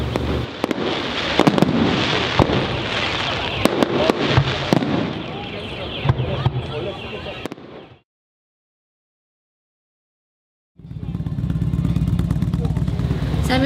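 A nighttime fireworks display on a motorcycle rally trip: dense crackling bursts and sharp pops fire in quick succession, then a few seconds of silence before deeper rumbling booms resume.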